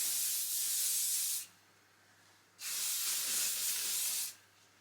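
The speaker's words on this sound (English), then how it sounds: "now I'm just going to take some of my Umberto Gianni hairspray and just spray" Umberto Giannini weatherproof hairspray misted onto hair, two long, loud, close hissing bursts from the aerosol can separated by a short pause.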